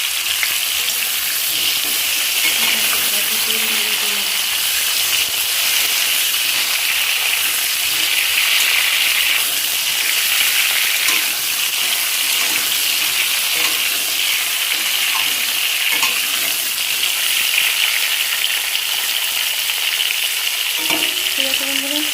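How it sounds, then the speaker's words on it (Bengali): Pointed gourd (potol) frying in oil gives a steady, close sizzle that runs without a break for the whole stretch, with faint stirring or scraping now and then and no talking. "পটলটাকে সুন্দর করে ভেজে নিই লাল লাল করে"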